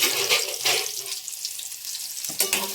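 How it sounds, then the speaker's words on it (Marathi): Chopped onion frying in oil in a pan, a close, steady hissing sizzle broken by a few scraping stirs, with no speech. "कांदा परतून घेते मस्तपैकी"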